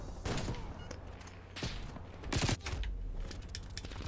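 Rapid, booming shots from the ZRG 20mm sniper rifle in Call of Duty: Black Ops Cold War, several loud heavy reports close together over a constant low game rumble.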